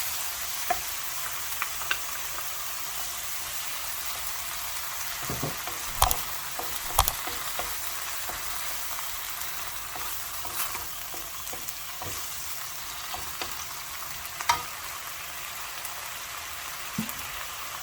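Green chilli paste frying in a pan for restaurant-style chilli chicken, giving a steady, soft sizzle with a few brief stirring clicks and scrapes throughout, no talking.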